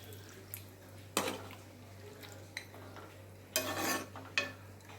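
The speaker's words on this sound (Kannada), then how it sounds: "ಇವಾಗ ಸ್ವಲ್ಪ ಬೇಯಲಿಕ್ಕೆ ಎಷ್ಟು ಬೇಕೋ ಅಷ್ಟು ನೀರು ಹಾಕ್ತಾಯಿದ್ದೀನಿ" Water is poured into a simmering egg and country-style chicken curry in two brief splashing gushes, close by, with faint pan clatter and a steady low hum in between.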